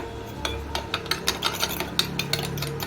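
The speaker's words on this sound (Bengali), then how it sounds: "আর এদিকে অ্যারারুটটাকে গুলে নেব।" A spoon stirs arrowroot into water to dissolve it, giving a quick series of close, rhythmic scraping clinks against the bowl.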